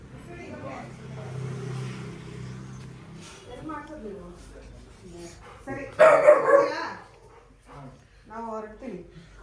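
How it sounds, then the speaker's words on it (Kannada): A big pet dog barks a few times close by around the middle, set against continuous household chatter from several people. "ಇಷ್ಟು ದೊಡ್ಡ ನಾಯಿಗೆ"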